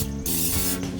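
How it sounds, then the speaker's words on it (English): Olive oil is sprayed onto a duck in a close, loud hiss that lasts about half a second, set between softer spray sounds. "Spray it down real good."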